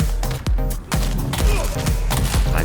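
Shell Burster weapon firing in an Inferno Trooper build: a series of loud, heavy blasts with sweeping low booms, spaced roughly every half second over a continuous noisy backdrop.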